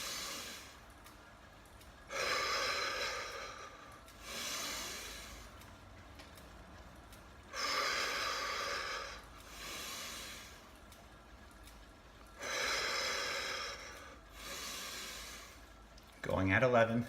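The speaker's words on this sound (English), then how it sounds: "Sharp exhale through the mouth." Sharp exhales pushed out through the mouth during a breathing exercise in a HIIT spin workout, three strong breathy bursts at a steady rhythm with softer in-breaths between, close to the mic.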